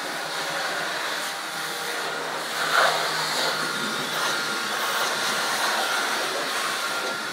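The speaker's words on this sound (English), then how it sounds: "Precision blowing for precision parts." A Black and Decker blower cleaning dust out of a PC makes a steady, loud airy whoosh that holds constant throughout, with a brief surge partway through and no talking.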